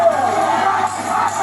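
A large crowd of protesters at a demonstration that turned violent, facing National Guards, makes a loud, steady roar of mingled voices and shouts throughout.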